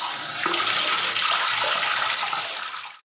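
Water gushes from an opened tap in a toilet, a loud, steady hissing stream that runs without a break for about three seconds and then cuts off abruptly into silence.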